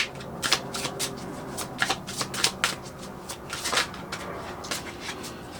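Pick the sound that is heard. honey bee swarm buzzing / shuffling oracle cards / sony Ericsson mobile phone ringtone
shuffling oracle cards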